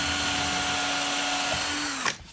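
A power drill whirs steadily as it drives a screw into the wooden frame of a fairground ring-the-bell high striker game. The tone holds for about two seconds, then winds down and stops.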